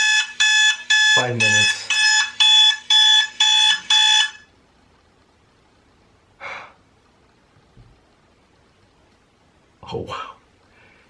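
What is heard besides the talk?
alarm clock ringing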